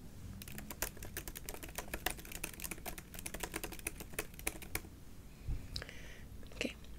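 Soft computer keyboard typing in a quiet ASMR setting, a fast run of close, crisp key clicks for several seconds that then stops, followed by a few faint rustles.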